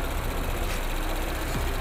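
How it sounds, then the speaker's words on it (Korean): An Audi A7 55 TFSI quattro idles with its engine bay open, giving a steady, even rumble with a low hum that stays constant throughout the short stretch. "엔진 소리 일정하네요."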